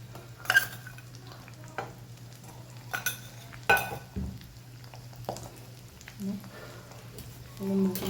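Stirring masala with turmeric, sugar and lemon among potatoes in a cooking pan, soft scrapes and clinks of the spoon at irregular intervals over a faint steady hum, quiet and close.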